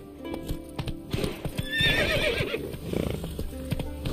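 A horse in The Witcher 3 gallops with rapid, close hoofbeats, and a sharp whinny rises over the pounding rhythm midway through.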